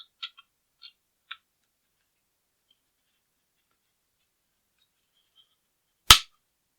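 A Sig P320-M17 pistol's disassembly latch release lever is fitted in with a few faint, light ticks of handling, then after a quiet pause a single sharp, loud metallic snap near the end.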